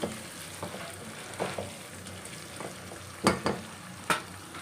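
Tomato fries in a pan under a low, steady sizzle, with a few separate scrapes and knocks from stirring heard up close and no talking.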